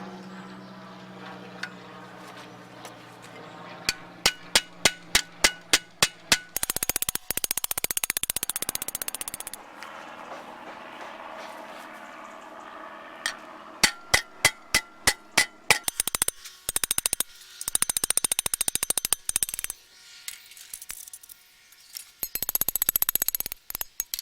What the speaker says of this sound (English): that is how you make a curved section without any special tools, just a hammer